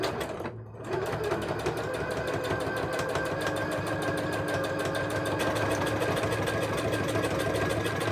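A sewing machine runs steadily while stitching a buttonhole, a close, continuous mechanical whir with fine rapid needle clatter, after a brief pause near the start.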